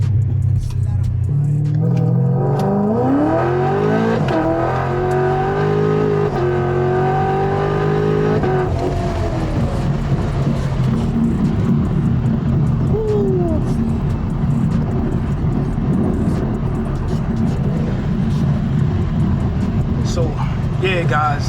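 A 700 hp Chevrolet Camaro 2SS on street tires accelerates hard in third gear. The engine note climbs steadily for several seconds, then settles into a loud, continuous rumble from inside the car.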